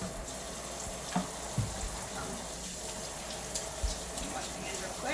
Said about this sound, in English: Wash my hands real quick. Get some of the grease off of them.